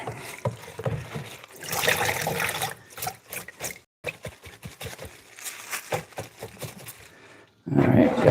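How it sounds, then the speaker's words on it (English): Running water rinses kale leaves in a kitchen sink, coming in splashy bursts with short gaps and light clatter between, close and moderately loud. "I don't know how much it's going to get noise from me rinsing off all the kale"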